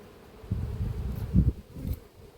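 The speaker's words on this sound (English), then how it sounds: "there's a lot of bees in here if they have" Honeybees buzz inside a colony in an apiary hive, a low, close hum that swells in several uneven pulses over a couple of seconds.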